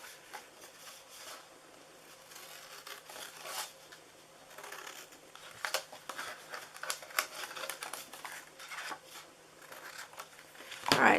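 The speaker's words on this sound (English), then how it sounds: "All right, now on these bottom, we're going to cut in here. And then we're going to cut up here." Scissors snip through paper while a treat bag is cut out, a quiet series of irregular crisp clicks and rustles that grows busier toward the end.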